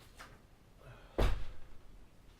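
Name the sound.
door being closed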